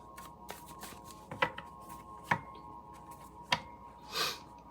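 Clue cards being shuffled close by, quiet riffling with several sharp flicks and slaps spaced about a second apart, nearly alone.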